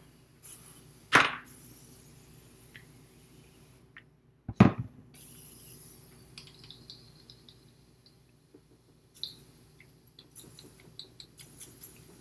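An airbrush being cleaned out: two sharp, loud bursts of blown air a few seconds apart, followed by softer scattered spits, clicks and taps in a quiet room.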